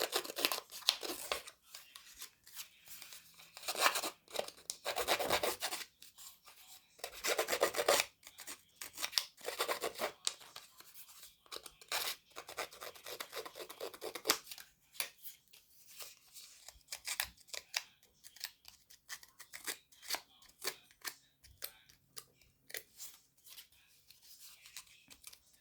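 A Tim Holtz distressing tool roughs up gear-printed paper up close, giving repeated scraping, rasping strokes in uneven bursts over a long stretch. Quieter rubbing and rustling fill the gaps.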